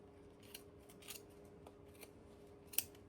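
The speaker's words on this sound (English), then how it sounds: "I'm gonna use my tiny sharp scissors." A few quiet, crisp snips of small sharp scissors cutting yarn for a pom pom, spaced apart in a hushed room, with one sharper cut near the end.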